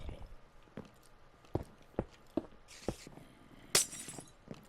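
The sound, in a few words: glass block being broken in the video game Minecraft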